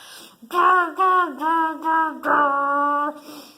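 A voice imitates an angry growl, five drawn-out "grr" sounds in a steady rhythm, the last one longer, close and fairly loud.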